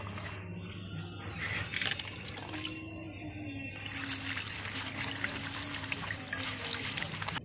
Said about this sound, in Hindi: तो अब हम अरवी के पत्ते को भी हम अच्छी तरह से पानी से धो लेंगे।